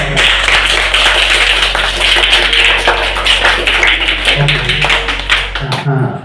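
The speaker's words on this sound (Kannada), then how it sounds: "ಇನ್ನೊಂದ್ಸಲ ಜೋರ ಚಪ್ಪಾಳೆ" Loud, dense clapping from a crowd at a Mahatma Gandhi death anniversary event fills the space continuously, then cuts off abruptly near the end.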